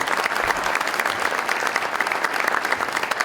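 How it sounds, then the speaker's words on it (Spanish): An audience at an insurtech conference event gives steady, dense applause, a continuous wash of many hands clapping at moderate loudness throughout, with no speech over it. "Les pido, ahora sí, si colaboran conmigo, con un fuerte aplauso"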